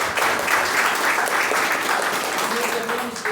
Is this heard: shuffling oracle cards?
no